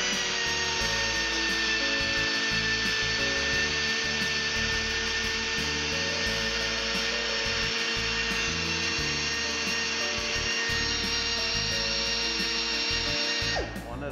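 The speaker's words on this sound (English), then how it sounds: "So I'm taking my die grinder and grinding off the burrs." A die grinder grinds burrs off manual transmission gear cogs in a workshop, a continuous high-pitched whine running steadily and close for the whole stretch before briefly winding down at the end.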